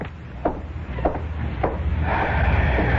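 Wooden door sounds in a radio drama: three evenly spaced dull knocks or thumps about half a second apart, followed by a swelling hiss and rumble of background noise.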